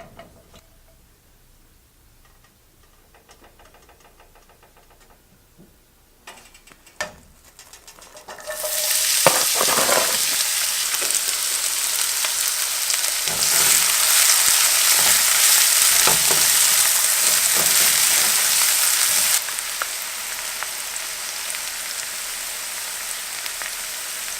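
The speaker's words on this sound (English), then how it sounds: "we're going to saute this in a skillet for a little bit, and then we're going to add the jackfruit" Food sautés in olive oil in a skillet for a jackfruit dish; quiet stirring and clinks at first, then a loud, dense sizzle bursts in and holds steady, easing slightly near the end, with no talking.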